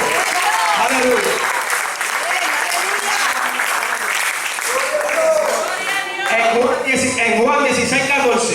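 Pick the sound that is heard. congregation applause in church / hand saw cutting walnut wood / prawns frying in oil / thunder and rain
congregation applause in church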